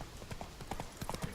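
Roach, Geralt's horse in The Witcher 3, gallops with a steady, rapid clip-clop of hooves that stays faint and muffled under a wash of game background noise.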